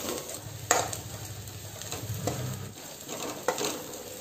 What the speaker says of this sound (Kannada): ಈಗ ಇದನ್ನು ನಾವು ಸ್ವಲ್ಪ ಫ್ರೈ ಮಾಡ್ಕೊಂಡ್ರೆ ಸಾಕು